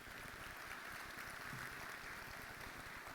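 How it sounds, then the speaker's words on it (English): Audience applause at a chamber of commerce State of Jefferson event, a steady dense wash of clapping from a large crowd without pause. "Give them all a big round of applause."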